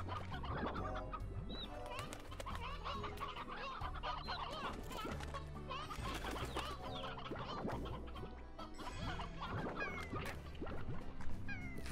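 Cat-like slimes in the Slime Rancher video game meow repeatedly over chicken-like clucking and fowl calls, a dense, busy layer of small animal sounds running throughout without speech.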